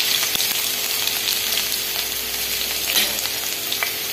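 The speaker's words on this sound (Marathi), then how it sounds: "जिरे छान फुललं की त्यामध्ये घालणार आहोत लसूण" Garlic sizzles in hot oil with mustard seeds and cumin for a garlicky fenugreek-leaf dish, giving a steady, close, dense frying hiss that runs without a break and with no voices.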